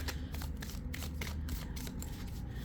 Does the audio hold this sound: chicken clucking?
no